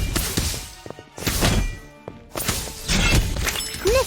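A Confringo blasting spell in Harry Potter Magic Awakened bursts in a series of loud crashing, shattering impacts with thuds and debris, close and dense over game sound effects.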